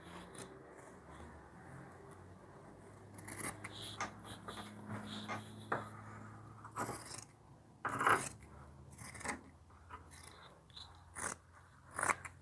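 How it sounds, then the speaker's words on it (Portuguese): Scissors snip through fabric along a traced line for a rag doll's dress, with irregular close crunchy cuts and rustling cloth, loud snips in clusters separated by pauses. "Tô cortando no risco"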